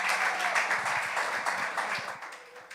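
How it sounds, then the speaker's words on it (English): Applause from an audience at a live performance, as a crowd welcomes a rapper up to perform, giving steady mid-level clapping for a few seconds with faint voices underneath. "Give him a round of applause as he get up here"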